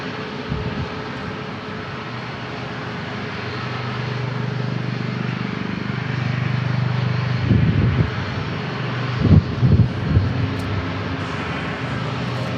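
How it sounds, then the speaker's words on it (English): A military V-22 Osprey tiltrotor flies near an airport, its broad low engine and rotor drone building steadily, with a few louder throbbing pulses toward the end. "more military aircraft. We got ourselves an Osprey."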